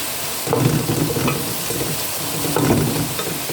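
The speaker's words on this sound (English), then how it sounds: "So, nice and simmering. This is on low heat though." A home-cooked dinner of fresh ingredients simmers in a pan on low heat on a gas cooker, a steady close sizzle and bubble with a couple of soft stirring scrapes, no voices.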